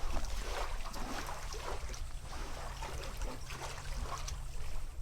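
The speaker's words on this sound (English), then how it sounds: "Let me see if we can actually catch this water here." Gentle lapping water beside an outdoor pier, with soft broadband wash and a low rumble of wind or distant hum underneath, fairly quiet and continuous.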